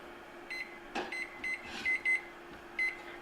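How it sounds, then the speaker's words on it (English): A kitchen oven timer being set while cornbread bakes gives a quiet run of about eight short electronic beeps, unevenly spaced as the buttons are pressed, with no talk over them. "Go ahead and set the timer."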